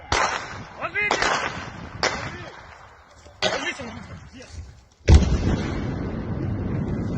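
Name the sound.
drone strike explosion in Kirov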